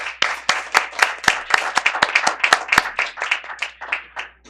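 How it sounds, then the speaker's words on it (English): A small audience at a school board of education meeting claps for newly chosen board candidates, a steady patter of close hand claps lasting several seconds before thinning out. "let's give our candidates a round of applause"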